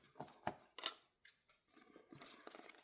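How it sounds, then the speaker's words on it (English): Scissors snip along the track of a cash envelope binder in a few close, sharp cuts with short pauses between them, quiet and alone. "You're going to take your scissors"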